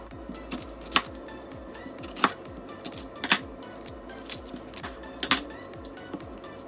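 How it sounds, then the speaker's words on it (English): A knife taps rhythmically against a cutting board in quick chops through onions, with a few sharper clacks and clinks scattered between. "I'm going to chop these into quarters and put them into the blender."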